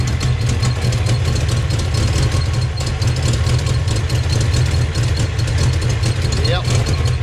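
A 1988 car engine idles steadily with exhaust leaks, giving a constant loud low rumble with uneven ticking across the whole stretch; there is no talk.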